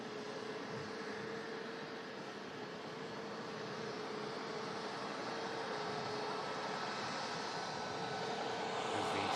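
A Jet2 Airbus A321 in holiday livery departs Manchester Airport, its distant engine roar steady and broadband, slowly building in loudness through the clip with no voices.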